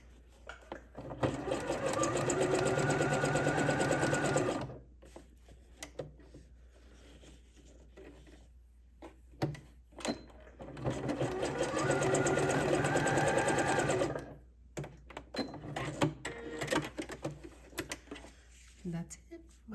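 A sewing machine stitches elastic into a trouser waistband in two steady bursts of rapid mechanical whirring, separated by quieter pauses with fabric handling and light clicks.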